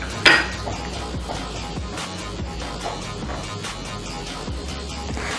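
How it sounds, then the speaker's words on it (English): Dry flour and a pinch of baking soda being stirred in a bowl for gulab jamun, a soft continuous scraping and rubbing with one sharper clink near the start, close and quiet. "In that we'll add in just a pinch of baking soda and mix this up really good"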